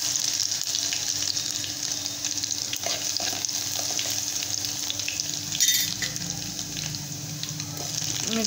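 Garlic, cumin and mustard seeds sizzle in hot oil on a gas stove, a dense, steady crackle that fills the whole stretch, close and fairly loud, with a brief louder flare partway through and no voices.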